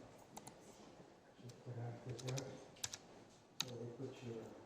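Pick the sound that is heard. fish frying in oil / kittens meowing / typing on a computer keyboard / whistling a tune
typing on a computer keyboard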